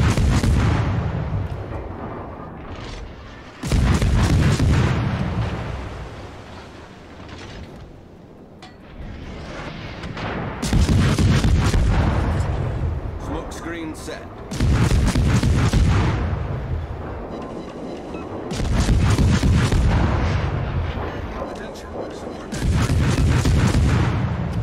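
Naval gunfire aboard a US destroyer, the Farragut, in World of Warships: heavy, booming salvos come in repeated bursts every few seconds, each rolling into a long rumble, loud and close, with no one speaking.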